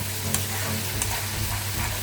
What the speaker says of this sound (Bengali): এই মশলাটাকে ভালো করে কষিয়ে নিচ্ছি